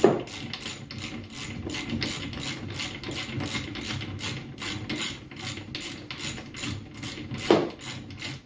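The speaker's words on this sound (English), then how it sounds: "I keep forgetting that I picked up this new Milwaukee ratchet" A Milwaukee ratchet clicks in a rapid, even run of pawl ticks, close and crisp, with a louder clack near the end while working on a Kubota L3901 tractor seat.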